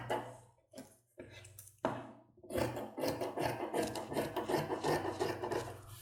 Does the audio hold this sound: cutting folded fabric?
yes